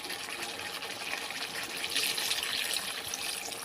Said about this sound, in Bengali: এবার দিয়ে দেবো আমি ওর মধ্যে জল।